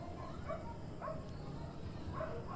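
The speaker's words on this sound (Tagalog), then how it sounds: "Maririnig mo lang mga aso" Faint dogs barking and yipping in the distance, a few scattered calls over a low steady background hum.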